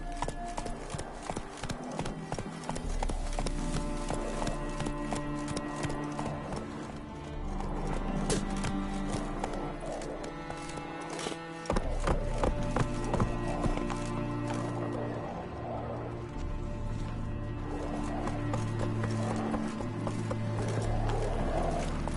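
Roach the horse galloping in The Witcher 3 video game, rapid rhythmic hoofbeats pounding steadily and close throughout, with occasional snorts and game music underneath.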